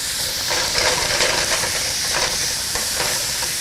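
Ground beef sizzling steadily in a hot pan for a shepherd's pie, a close, continuous frying hiss with light scraping and stirring sounds as the meat is broken up.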